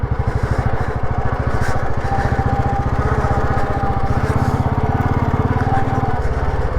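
Close, loud single-cylinder thumping from an old Royal Enfield Bullet 350 with a cast-iron engine riding off-road by a river, the rapid even beat holding steady throughout with a slight change near the end.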